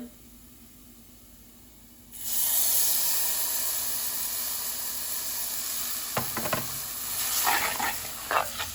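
Roasted onion drops into a hot pan for a Goan coconut curry, bursting into a loud, steady sizzle after a quiet start, with scraping stirs clattering near the end.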